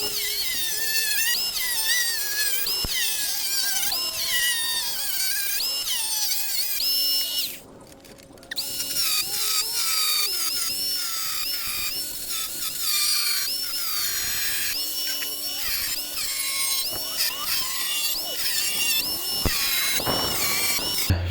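Angle grinder with a cutting disc slicing through a steel car wheel being made into a homemade stove, a loud high-pitched whine with shifting tones as the disc bites, briefly stopping midway before resuming.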